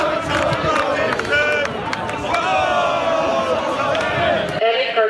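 A crowd fighting during street disorder in Blackpool, loud outdoor shouting and yelling voices overlapping in chaotic bursts, close and continuous until a sudden cut near the end.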